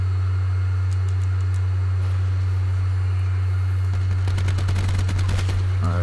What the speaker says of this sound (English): That gunfire really would have helped.